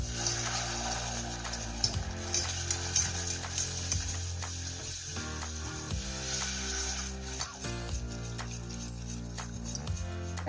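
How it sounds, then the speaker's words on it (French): Very cold milk is stirred into a roux in a pan on the heat, with a soft, steady sizzle and light repeated scraping strokes, close and fairly quiet. "je vais verser doucement du lait très froid, environ un quart de litre de lait."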